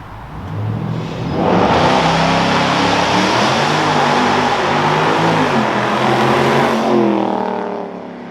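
A car revs hard and accelerates away in a launch control start; the engine roar swells within a second, holds loud and steady for several seconds, then eases off.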